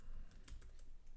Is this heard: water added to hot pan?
no